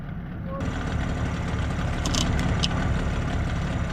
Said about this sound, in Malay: Enjin hidup reverse ah.